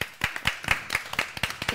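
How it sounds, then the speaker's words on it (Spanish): A small group of people clap at the end of a gathering, a steady run of sharp, close handclaps that sound more like a few hands than a full applauding crowd. "Un aplauso enorme."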